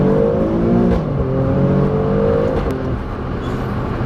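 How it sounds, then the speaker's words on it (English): Alfa Romeo Stelvio Quadrifoglio exhaust in race mode with its valves fully open, revving loud and close in a steady, rasping drone that swells and eases without a break. "that's the only way to fully engage the sound of the exhaust"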